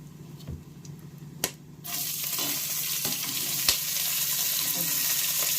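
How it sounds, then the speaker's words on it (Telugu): Chopped onions and green chillies hit hot oil in a pan for coconut rice, a loud steady sizzle surging up after a couple of faint clinks and stirring scrapes, continuing alone with occasional utensil knocks. "ఇప్పుడు కట్ చేసి పెట్టుకున్న ఎర్రగడ్డలు, పచ్చిమిరపకాయలు వేసేద్దాం."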